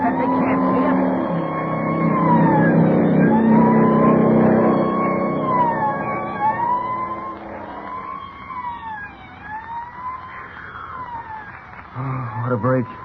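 A police car's wailing siren rises and falls loudly as it drives past in a radio drama about a jewel robbery, with low engine rumble and voices talking over it, then fading into the distance.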